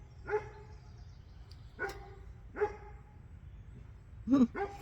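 A dog barks four times at spaced intervals, the last a quick double bark, fairly close against a low background hum.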